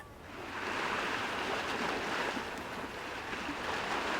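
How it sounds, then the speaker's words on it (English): Ocean waves wash steadily through a phone call in the otome game Love and Deepspace, a continuous broad surf roar that swells in over the first half second and then holds at an even, moderately loud level with no voices. "why do I hear waves on your end?"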